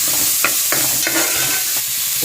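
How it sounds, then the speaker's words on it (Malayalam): Carrots being stirred into frying rava upma: a loud, close sizzle with repeated spatula scrapes and clacks against the pan, several strokes in quick succession. "ശേഷം ക്യാരറ്റ് ഇട്ടിട്ട് നല്ലപോലെ ഇളക്കി കൊടുക്കാം"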